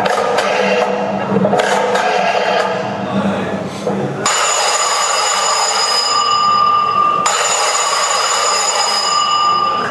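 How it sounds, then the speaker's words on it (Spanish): A cell phone in Manaca rings with a bright electronic ringtone in repeating bursts, up close, following a few seconds of clattering, muffled background noise. "Mira cómo suena un celular en Manaca."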